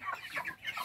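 Chickens on a farm in St. Elizabeth, Jamaica cluck softly in quick, irregular bursts, faint and nearby, with no voices.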